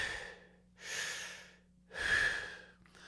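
Three slow breaths drawn in and let out through the lips during a trumpet breathing exercise, each a soft, airy rush lasting about half a second to a second, close and alone with brief pauses between.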